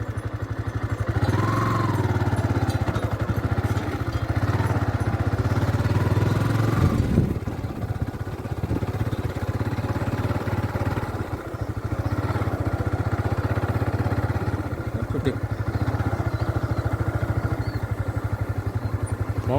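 A motorcycle engine running close by on a ride in Bongaigaon, Assam, a steady loud low putter that briefly dips before resuming, with a voice speaking over it.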